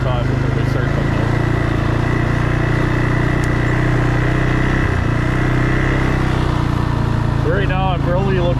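A CFMOTO 600 quad riding through thick fog on a cold morning gives a steady, droning engine hum that runs continuously throughout, with a person talking over it near the end.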